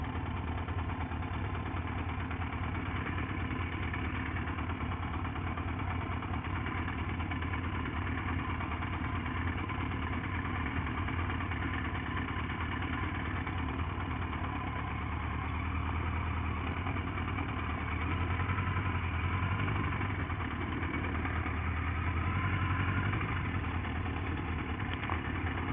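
A motorcycle engine idles steadily and close on a gravel driveway, a continuous low rumble that swells slightly near the end, with no speech.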